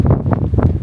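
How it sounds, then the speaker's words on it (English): Cold winter wind buffets the microphone on a hike, a close, low rumbling gust that swells and dips unevenly with no voices. "Granted, it's also been cold and windy."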